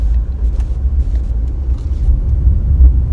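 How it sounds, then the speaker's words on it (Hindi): Steady low rumble of a brand-new DFSK Glory 580 PRO with a turbocharged engine driving along at gentle speed, heard from inside the cabin with no talking. "अब हम इस गाड़ी को ड्राइव करके देख लेते हैं"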